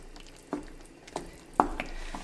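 Grated Parmesan being stirred into steakhouse-style creamed spinach in a pan, with a few soft, separate scrapes and wet clicks of the spoon against the pan over a quiet background.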